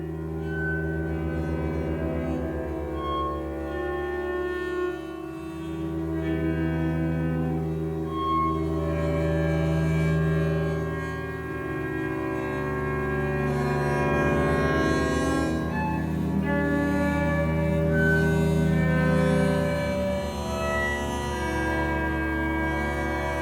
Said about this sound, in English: what you hear is amplified cello.